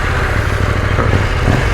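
A 2021 KTM 890 Duke R motorcycle engine runs close by, a loud, steady low throb with a rapid pulsing rumble and no voices over it.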